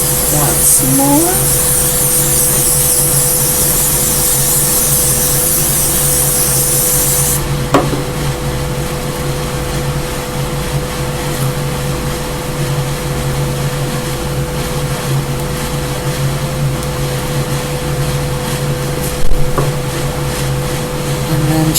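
Hairspray hissing onto a styled wig in a steady, close spray that runs for several seconds and then drops to a softer continuous hiss, with a low hum and occasional small clicks underneath.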